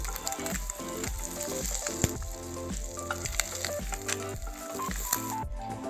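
Small puti fish crackle and sizzle in hot oil, a dense popping fry with occasional utensil clicks, close and steady with no talking.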